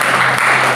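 A congregation applauds at a prayer and worship service held in an apartment, making a brief, steady wash of clapping.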